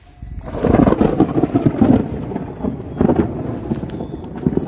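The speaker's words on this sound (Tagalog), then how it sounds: "dahil may kumukulog, kumikidlat na" Deep rolling thunder during a storm near a fishpond, a loud rumble building after the first half-second and swelling again around three seconds, with no talking.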